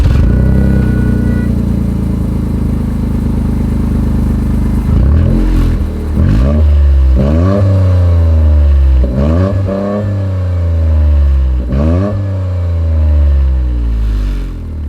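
A 2024 Toyota GR Corolla's triple exhaust idles loudly, then barks through a series of sharp, close revs that rise and fall in quick succession.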